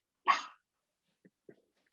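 A dog gives one sharp, loud bark followed by two faint, brief sounds, in an otherwise quiet indoor space.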